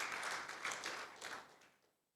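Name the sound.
congregation applause in church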